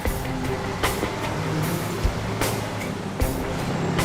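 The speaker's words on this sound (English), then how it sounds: "Running like an old truck does. Noisy and stinky." An old truck engine runs steadily with a noisy, continuous rumble, broken by a few sharp clanks or bumps, close and loud with no voices.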